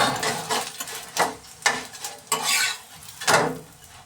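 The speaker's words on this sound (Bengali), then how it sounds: "গোলা রুটিটা তেল দিয়ে ভাজলেই বেশি ভালো লাগে। এইভাবেই ভাজবো।" Gola ruti frying in oil in a pan, with repeated scraping and stirring strokes of a spatula over a light sizzle, close and fairly loud, no speech.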